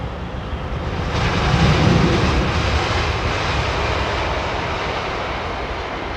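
A Boeing Dreamliner jet airliner with high-bypass turbofans arrives on runway 27R, its steady broadband roar swelling toward the middle and then holding loud and level, with wind rumble underneath.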